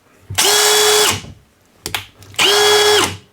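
A Milwaukee 2804-20 half-inch hammer drill driver, set to first speed, spins up twice in close succession, each run a loud, steady whirring motor whine lasting under a second before stopping.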